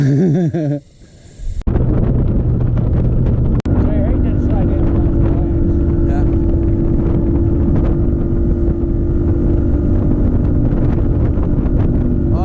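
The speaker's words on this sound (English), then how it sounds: "you got boat traffic, you know? Lots of boat traffic." A steady motorboat engine drones nearby on a river during a bass fishing competition, with wind buffeting the microphone at the start and people talking over the hum.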